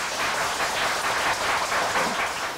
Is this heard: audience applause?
yes